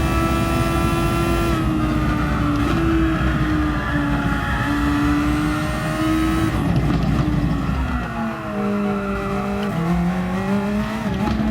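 Race car in a DGT THOR lap at Brazil's Bico de Pato corner, taken in second gear: a loud, sustained high engine note that dips and climbs through the turn, with shifting pitch and tire noise, no talking.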